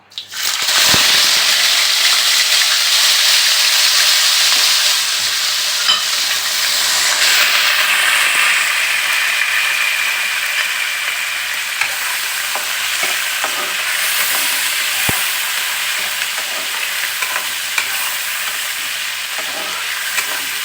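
Spices dropped into a hot pan for chicken malai curry burst into a loud, sustained sizzle and hiss that settles into steady frying with occasional stirring clicks, close and continuous without talk.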